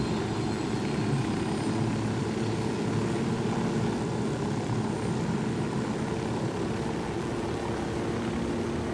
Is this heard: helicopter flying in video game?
yes